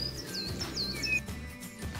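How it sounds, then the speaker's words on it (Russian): A small bullfinch gives several soft, clear piping calls, short descending whistled notes in a quick series, close and alone over a faint low background hum. "Снегирь. Маленькая птичка с красным животиком."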